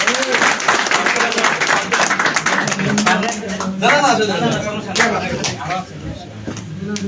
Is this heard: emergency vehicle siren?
no